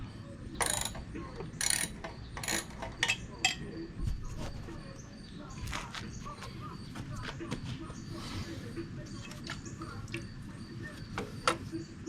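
Hand tools ratchet and clink while the radiator is removed from a 2000 Honda CBR929RR motorcycle after draining the coolant, giving a scattering of close metallic clicks and taps with a voice talking briefly.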